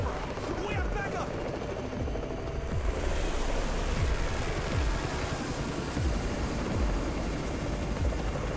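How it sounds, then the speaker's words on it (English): A helicopter arrives in the zombie survival video game Undawn, a steady loud rotor drone with rhythmic low thumps running throughout, mixed with game effects. "It's the Raven's chopper! We have backup!"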